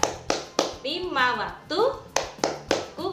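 A group of preschool children claps rhythmically and sings a Ramadan prayer-time clapping song; sharp clap bursts land in a steady beat roughly every half second, with the sung voices continuing between them.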